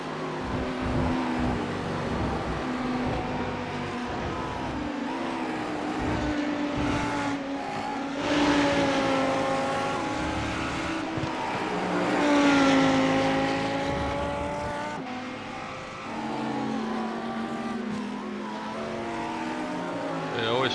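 A GT3 race car at Spa in a racing simulator roars steadily through the gears, engine pitch climbing and dropping with shifts and braking, loud and continuous, with tire noise and someone talking over it.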